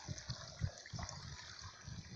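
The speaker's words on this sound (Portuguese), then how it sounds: "ouvir esse barulhinho da água correndo aqui" Water running through a natural setting, a steady close trickle and gurgle with small splashy pulses and no voices.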